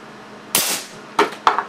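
A compressed-air cannon with a small 24 V solenoid valve fires at a pine block on a bench, giving one sharp, loud blast followed by two shorter knocks.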